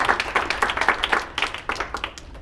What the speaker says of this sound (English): Can we get another round of applause for PwC and Magna and Allison?